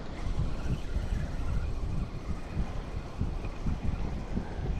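Wind rushes steadily over a moving boat out on open water, a continuous low buffeting roar with gusty swells.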